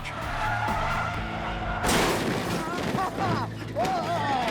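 Cars charge down an airfield runway in a staged vehicle clash, with tires skidding and squealing loudly, engines roaring and sharp impact-like bursts, while a voice talks over the action.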